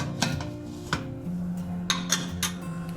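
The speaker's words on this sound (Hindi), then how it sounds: "कुकर का ढक्कन लगाएंगे" Metal clanks as a pressure cooker lid is fitted onto the pot while cooking chickpeas for a namkeen snack, a few sharp knocks and scrapes in a home kitchen over a steady low hum.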